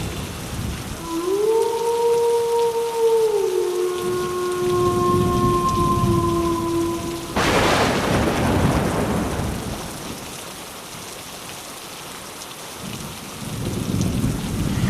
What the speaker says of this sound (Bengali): বাইরে এত বৃষ্টি হচ্ছিল যে আশেপাশে কোনো মানুষেরই দেখা নেই